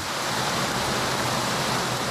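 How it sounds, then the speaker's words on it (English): Water rushes steadily down the City Creek Cascades, landscaped man-made waterfalls, in a continuous, dense, even roar with no voices. "The City Creek Cascades look as though they've been carved by water over decades."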